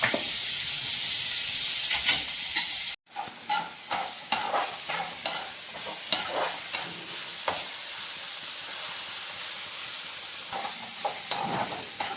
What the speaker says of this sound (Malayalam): ഇത്തിരി ഉപ്പ് ഇട്ടേക്കാം ഒന്ന് വാടാൻ എനിക്ക് സവാള ഒന്ന് വാടി കിട്ടാനാണ് വേണം